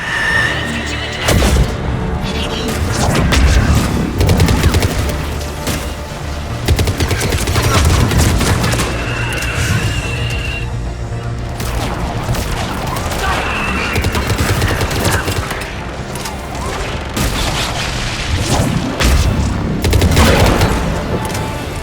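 Aircraft cannon and missile fire in the Mass Effect 3 video game: a dense, loud, continuous barrage of rapid gunfire and booming explosions, with occasional voices mixed in.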